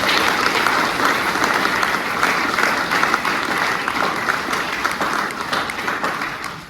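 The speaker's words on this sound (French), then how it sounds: "Nous vous félicitons par les applaudissements là." A church congregation applauds new communion ministers at a Sunday Mass, dense sustained clapping filling the room at steady loudness for several seconds.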